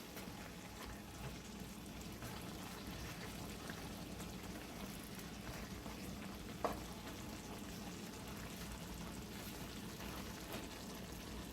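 Okra simmering in a pot of Guyanese cook-up rice gives a steady, even bubbling and sizzling hiss that runs unbroken throughout, with one brief small knock partway through and no voices.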